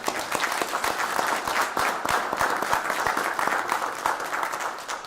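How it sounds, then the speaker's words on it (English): Steady applause from an assembled crowd honoring Marine staff sergeants at a high school football rivalry celebration, dense sharp claps sustained evenly throughout at moderate distance. "So let's give them a round of applause."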